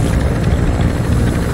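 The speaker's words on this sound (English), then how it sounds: "It's the last helicopter." A loud, close helicopter from Call of Duty MW2 roars with dense rotor wash and engine rumble, steady throughout with no voices over it.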